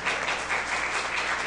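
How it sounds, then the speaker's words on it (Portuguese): Audience at a tech conference talk applauding a speaker being introduced, a dense, even burst of clapping filling the room, loud and unbroken with no voices over it. "Uma salva de palmas para o Doralvino Sena"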